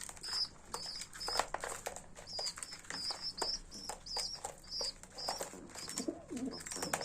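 Baby pigeons pecking at their first feed mixed with oyster shell grit, heard as a run of close, rapid taps and soft rustles, with occasional faint cooing and wing flutters.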